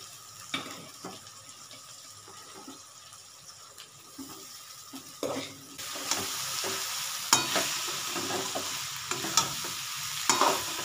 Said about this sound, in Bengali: এবার আমি ভাতটা এখানে দিচ্ছি